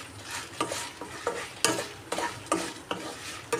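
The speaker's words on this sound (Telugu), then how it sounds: "మాడిపోకుండా మధ్య మధ్యలో ఇలాగా కలుపుతూ ఉండాలి. మంచి కలర్లో వచ్చే వరకు ఫ్రై చేసుకోవాలండి." Gongura chutney, a sorrel leaf pickle, frying in a pan while a spoon stirs it at regular intervals, making a steady close sizzle broken by repeated scraping strokes, with no voices.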